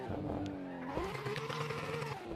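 A Tofaş car fitted with a Ferrari engine drifts in the Assetto Corsa video game, its engine howling with rising and falling revs while tires squeal steadily throughout.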